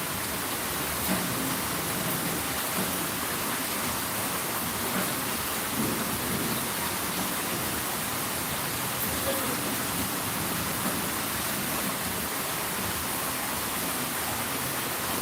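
Heavy rain pours down steadily in a village during a violent thunderstorm, a dense, loud, unbroken roar with low thunder rumbling beneath it throughout.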